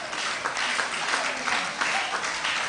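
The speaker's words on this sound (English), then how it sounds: "Please give him another round of applause" Sustained audience applause at a medical association event for International Day of the Boy Child, steady dense clapping throughout the whole stretch, moderately loud and even with no voices on top.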